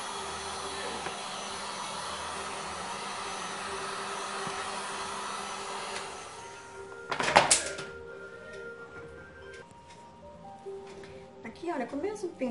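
A hair dryer blows steadily to dry paint on a mandala stencil artwork, a continuous airy whir that cuts off partway, followed by brief knocks and handling noises.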